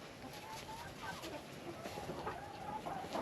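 A flock of about 40 chickens clucks and murmurs continuously nearby in a coop run, overlapping soft calls rising and falling over a steady background.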